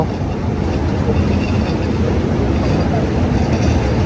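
An electric water pump runs at a sluice-gate pumping station that drains water into a river, giving off a loud, steady rumbling drone close by with no talk over it.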